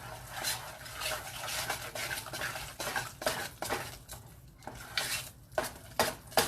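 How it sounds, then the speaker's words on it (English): Chocolate fudge cake frosting being stirred in a pan, with a steady run of utensil scrapes and clinks against the metal close up, continuing throughout with no talking. "You just got to keep stirring."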